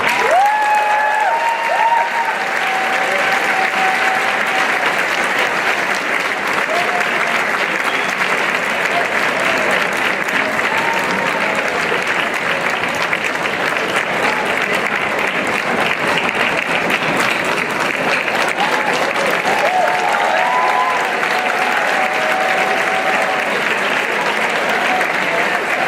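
Sustained applause from a large audience at the NAIMUN 50 Model UN opening ceremony, welcoming the 23-member Secretariat; dense, steady clapping fills the hall for the whole stretch with a few faint cheers rising above it.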